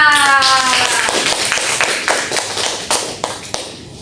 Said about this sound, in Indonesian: Beri tepuk tangan yang terakhir kalinya untuk kita.